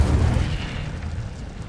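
A fire spell blast in a wizard video game, a rumbling boom that starts loud and dense, then settles into a sustained low roar fading slightly over under two seconds, with no voices.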